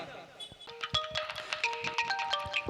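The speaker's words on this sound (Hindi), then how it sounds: "अचानक बड़े बेटे इंतखाब का फोन आता है।" A phone ringtone plays a short repeating electronic melody of bright tones at moderate volume, with a voice and other sounds mixed in beneath it.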